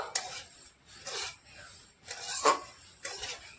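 Semolina batter with egg being mixed in a bowl gives off four separate bursts of scraping and rubbing strokes, moderately close and fairly soft, with short pauses between them.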